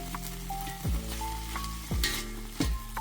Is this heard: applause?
no